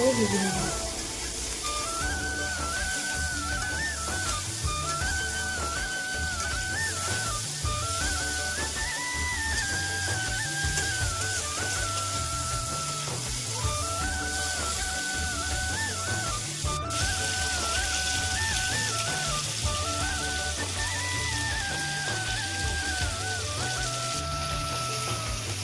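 Rohu fish pieces frying in hot oil with turmeric and salt, a constant crackling sizzle under a melodic backing track that runs throughout, close and steady.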